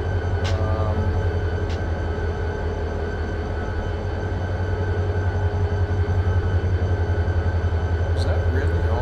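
A freight train rumbles steadily throughout in the Run8 train simulator on the Sanford Subdivision, with a deep continuous low drone and rolling clatter at constant loudness and a couple of faint brief squeals.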